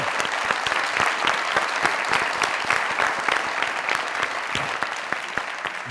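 Enthusiastic studio audience applause welcoming a guest on a Pakistani TV comedy talk show, a thick bed of clapping with sharp rhythmic claps standing out near the microphone, continuous for several seconds without talk.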